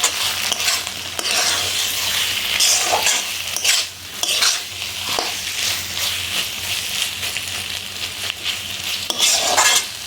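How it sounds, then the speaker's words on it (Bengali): A spoon stirs papaya curry with ghee in a hot pan, scraping and clattering against the metal in irregular strokes over a soft, steady sizzle, close up and with no talking. "এটাকে ভালো করে মিশিয়ে নিচ্ছি।"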